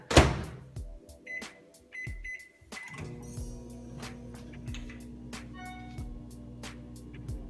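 Microwave oven running while melting butter, beeps and a door clunk at first, then a steady low hum with light clicks and rattles, fairly quiet, no talk.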